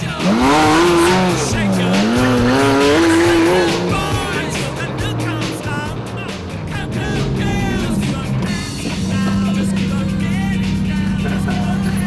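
A Ferrari F50 and Porsches race during the Gumball 3000 rally, their loud engines rising and falling in pitch as they pass close by, with tire squeal and continuous roaring engine noise throughout.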